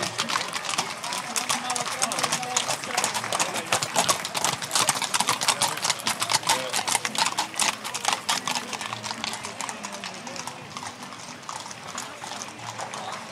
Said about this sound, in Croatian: Pogledajte te predivne primjerke konja.